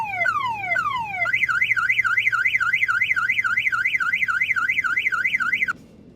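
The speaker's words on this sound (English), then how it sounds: "that's what happens when the alarm fires off" A Ford Mustang factory electronic car alarm blares loudly, cycling through falling chirps and then a rapid warbling wail that runs steadily before cutting off abruptly.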